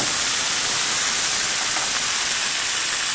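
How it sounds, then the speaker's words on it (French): A pan sizzles hard over high heat as white wine hits it during cooking of a mushroom tartiflette, a loud, steady hiss that holds evenly throughout. "on vient déglacer avec du vin blanc"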